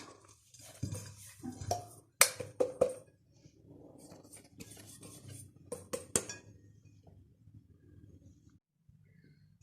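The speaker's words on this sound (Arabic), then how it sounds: "باش نصبهم في الاناء لهنا" Dry peanuts and sesame seeds are poured into a bowl in a quiet kitchen. The result is a few close, bright clinks and rattling bursts between pauses.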